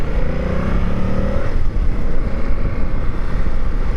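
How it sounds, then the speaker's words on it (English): A 2025 Yamaha Tracer 7 GT touring motorcycle's CP2 crossplane twin-cylinder engine growls loudly and steadily up close, with a rising rev tone for the first second and a half before settling into a rough, throaty drone. "Twin cylinder engine on here has got a nice growl to it."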